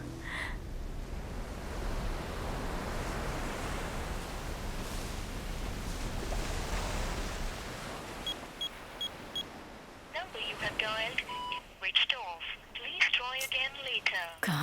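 A muffled noisy stretch gives way to repeated electronic telephone tones and beeps, with a voice talking over the later part.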